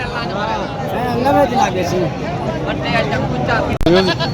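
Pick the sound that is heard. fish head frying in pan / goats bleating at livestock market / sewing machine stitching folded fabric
goats bleating at livestock market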